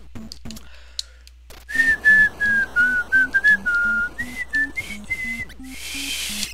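A person whistles a bouncy, jazzy tune in short separate notes that step up and down over a faint, quiet background, with a few soft clicks before the melody begins.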